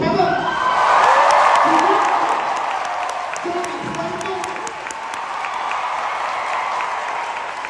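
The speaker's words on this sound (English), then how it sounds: "round of applause" Audience applause with cheering and whoops fills a large theatre at a movie night at the United Palace, a dense, sustained roar of clapping that swells early and then holds steady.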